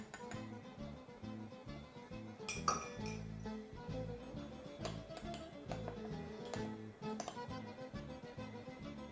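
A spoon mixes food coloring diluted with a little milk in a small dish for mutton biryani, making repeated light clinks and ticks against the container in a steady rhythm, close by with no talking.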